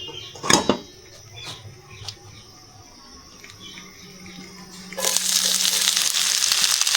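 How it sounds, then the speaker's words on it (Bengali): Nigella seeds hit hot oil for a watermelon rind fry and set off a loud, steady sizzle that starts abruptly and continues, preceded by a few faint knocks and clatters. "তেলের মধ্যে একটু কালো জিরা ফোড়ন দিবেন"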